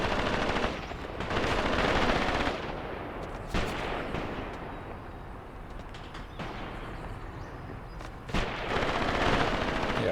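Machine gun fire in the World War II tactics game Graviteam Tactics Mius rattles in long, loud, dense bursts with heavy booming impacts, continuing across the clip with a brief lull near the middle.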